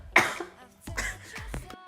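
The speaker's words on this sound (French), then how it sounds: "je peux pas faire une phrase sans tousser" A woman coughs in short harsh bursts, three or four separate coughs spread across a couple of seconds at close range in a quiet room.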